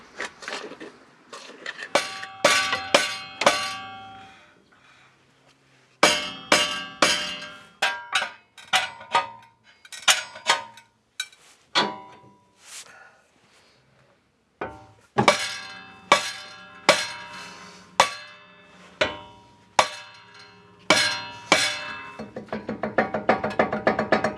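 A soft hammer strikes the suspension ball joint of a Land Rover Discovery 2 in a series of sharp, ringing metallic blows, delivered in quick bursts separated by short pauses, loud and close.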